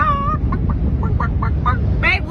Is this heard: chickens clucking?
yes